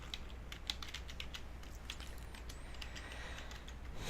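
Fingers tapping on a computer keyboard while writing an SQL query, a quiet, quick, irregular patter of key clicks close by over low room hum.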